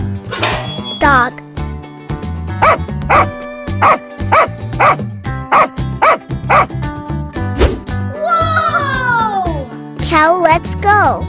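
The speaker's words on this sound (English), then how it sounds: "Dog." A dog gives a quick run of loud, close barks and yips, with a few meow-like cries near the end. Someone speaks in the gaps between them.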